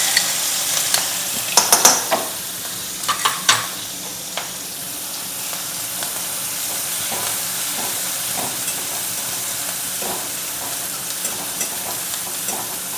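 Asafoetida and ginger-chili paste sizzle in hot oil for a Gujarati capsicum sabji, a steady close hiss with a few sharp crackles and stirring clinks near the start.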